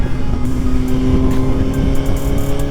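Suzuki GSX-R 1000 sport motorcycle under way in A mode, a loud, steady engine drone with a droning harmonic whine and rushing wind noise throughout, no voices.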